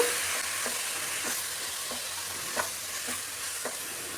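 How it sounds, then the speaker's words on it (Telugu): Soaked rice fries with mint leaf paste in a pan, a soft continuous sizzle with regular light scraping stirs every half second or so. "ఒక నిమిషం పాటు మనం ఆకు పేస్ట్తో పాటు మనం ఈ బియ్యాన్ని కూడా కలుపుకుంటూ వేయించుకోవాలి"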